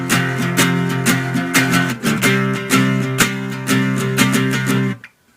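A distorted electric guitar chugs a 3/5 power chord pattern, loud and close, with steady rhythmic palm-muted strikes and accented hits running continuously before cutting off abruptly.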